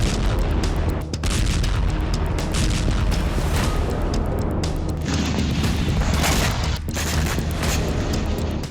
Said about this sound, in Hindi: रूस की मिसाइल स्ट्राइक से दनीप्रो में एक दो नहीं बल्कि कई जबरदस्त विस्फोट हुए